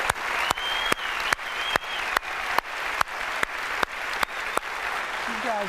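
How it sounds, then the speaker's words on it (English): An audience at Apple's WWDC 2008 keynote claps for a team, with steady, dense applause and a few sharp clap bursts standing out near the microphone, running throughout. "Let's give them a round of applause."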